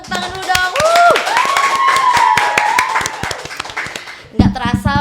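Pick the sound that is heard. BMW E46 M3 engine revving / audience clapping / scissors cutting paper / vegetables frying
audience clapping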